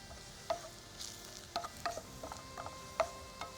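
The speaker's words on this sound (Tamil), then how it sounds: "நம்ம கிளற வேண்டியது தான். இது நல்லா இந்த மாதிரி கைவிடாமல் வறுத்து பொரிய வைக்கணும்" A pan of food is stirred and roasted without pause. Soft, close scraping and clicking stirring strokes land at irregular moments over a faint, quiet sizzle.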